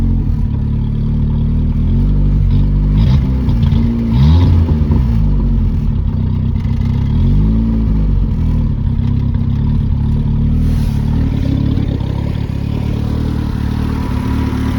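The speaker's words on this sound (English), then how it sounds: "Seems to be idling good." A 1977 Honda CVCC engine idles loudly at about 1,000 to 1,200 rpm with a rough, throbbing hum, rising briefly as if revved before settling back to a steady rumble.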